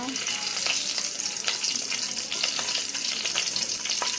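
Bay leaf, cloves and cardamom sizzle in hot oil in a pan, a soft, steady crackle with scattered sharper pops, faint and close, with no talking.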